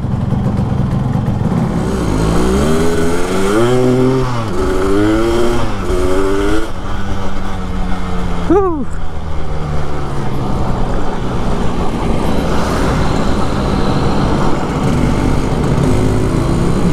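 A Yamaha RX King motorcycle fitted with a trail bike engine, ridden on the road and heard loud and near, with a continuous engine drone rising and falling through several revs and gear changes amid traffic noise.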